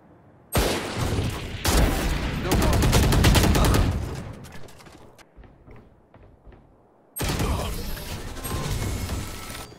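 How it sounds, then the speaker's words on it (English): In the Valorant video game, a swarm grenade goes off alongside bursts of rapid gunfire, loud close fusillades starting abruptly, fading to scattered shots, then a second heavy burst resuming; no talking is heard. "Placing swarm grenade. Swarm grenade out."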